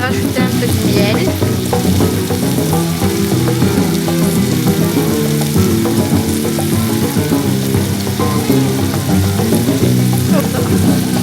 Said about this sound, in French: Maintenant que ça a commencé à réduire, je vais rajouter un peu de miel.